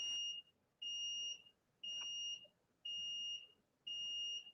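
An electronic alarm beeps five times, one shrill tone about every second with quiet gaps between, fairly faint and with no talk.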